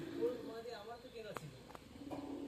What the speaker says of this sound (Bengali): কিছু পায়রা বাইরে ছাড়া আছে ঠিক আছে এটা হচ্ছে পুরো লফট